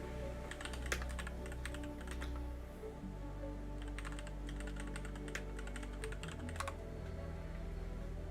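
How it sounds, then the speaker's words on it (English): A new computer keyboard clacks in quick irregular bursts of keystrokes, crisp and close, over a steady low electrical hum. "That's what all the clacking is in the background."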